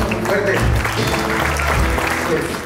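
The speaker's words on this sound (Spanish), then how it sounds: "Esos aplausos muy fuertes para Alexander y Jeremy." Loud, dense applause from a crowd at a Mexican-style sweet sixteen party, welcoming the entrance of two young men, with an announcer's voice talking over the clapping.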